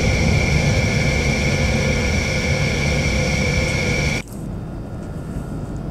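Rafale Marine jet engines running in Microsoft Flight Simulator, a loud steady roar with a sustained high whine that drops abruptly to a quieter, thinner hum near the end.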